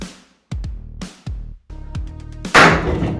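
Gas from an HHO generator ignites in a series of sharp close bangs, several distinct pops with ringing tails followed by a louder, broader burst at the end.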